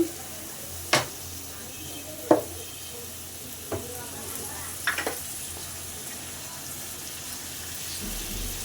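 Shrimp and potatoes being stirred in oil with salt in a pan: a quiet, steady low sizzle broken by a few sharp scraping clicks of the spoon against the pan.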